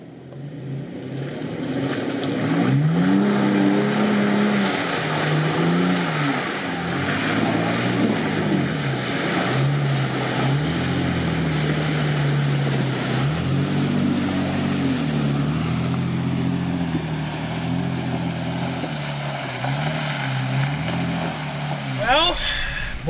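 A Jeep Wrangler 4xe Rubicon or Toyota 4Runner TRD Pro off-road SUV powers into a mud pit, engine droning loudly and surging in repeated revving swells throughout, with a voice talking over it.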